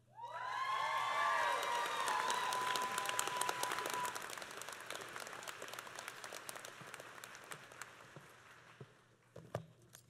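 Graduation ceremony audience bursting into loud applause and cheers, a dense wave of clapping with whoops that swells quickly, then gradually thins out into scattered claps.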